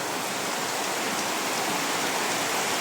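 Heavy rain pours down steadily in a flood-prone spot, a dense, loud, unbroken hiss close by with no voices.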